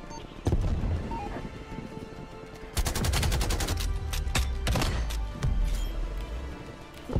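Krig 6 rifle in the Call of Duty Cold War beta firing loud, rapid automatic bursts up close, with sustained stretches of gunfire broken by short pauses and a few isolated shots, no talking.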